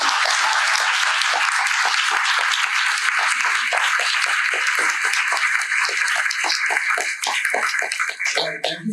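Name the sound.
audience applause for an art panel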